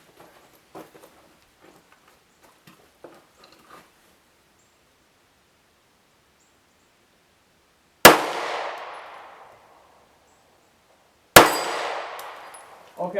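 Two sharp pistol shots from 115 grain Blazer brass ammunition at a range, a few seconds apart, each a loud close crack with a ringing tail after a long quiet stretch of faint rustling.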